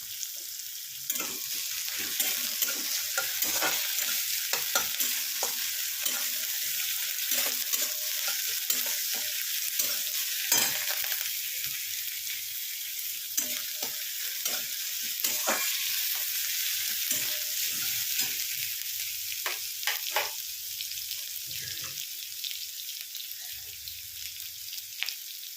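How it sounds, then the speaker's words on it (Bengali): Grated onion fries in a pan with green chillies, giving a steady soft sizzle, and a utensil scrapes and stirs it again and again, close up, with no talking. "পেঁয়াজটা একটু ভালো করে ভেজে নেব।"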